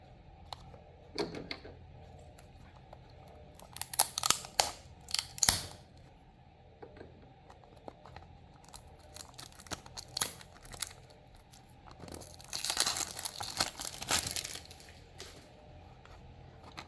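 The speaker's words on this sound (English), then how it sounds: "So let's unbox and see how it looks." Unboxing a Tomica Premium 1:63 scale Nissan GTR 50 by Italdesign toy car: close bursts of cardboard and plastic packaging rustling, tearing and crinkling, with short pauses between handling sounds.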